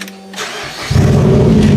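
Demolition derby car engine cranking and catching with the clutch pedal pressed: brief quiet clicks and a starter whir, then the engine fires and settles into a loud, steady close idle.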